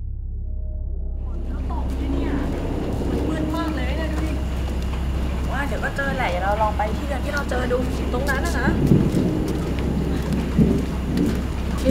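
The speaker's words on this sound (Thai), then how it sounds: "ฝนก็ตก" Steady heavy rain pours down with a low thunder rumble underneath, while voices speak over the downpour partway through.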